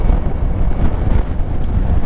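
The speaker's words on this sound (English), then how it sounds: "I'm really getting pushed around with this wind." Strong wind roars and buffets against the microphone while riding a Kymco AK 550 motorcycle, a constant low rumble, loud and unbroken for the whole moment.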